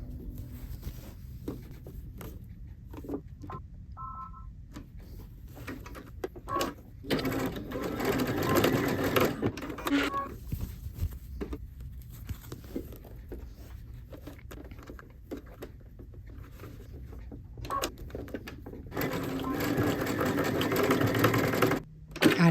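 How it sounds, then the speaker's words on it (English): A sewing machine stitches a kitchen towel in a run of close, rattling bursts. Its rapid needle clatter rises and falls between short pauses and grows louder toward the end. "I'm gonna sew this down on both sides so that it can hang up."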